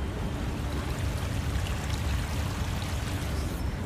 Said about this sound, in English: There's a waterfall going down the stairs